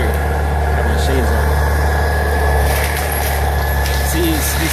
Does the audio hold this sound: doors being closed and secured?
no